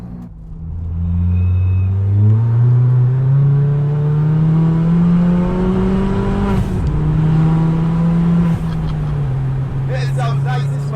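An engine-swapped Ford Fiesta ST with about 350 bhp revs up close and loud, its deep drone rising and holding before easing off, with brief clicks near the end.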